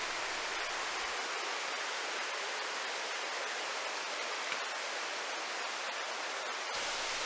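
A mountain stream in the Sibiseonnyeotang valley slides over broad rock slabs into a small waterfall and pool, giving a continuous, even rush of water that stays unbroken throughout.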